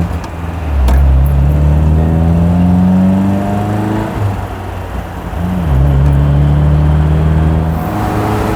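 An MGB sports car engine drones loudly from inside the cabin while driving, pitch climbing steadily, then dipping and settling lower as it shifts into overdrive fifth gear, with no talking.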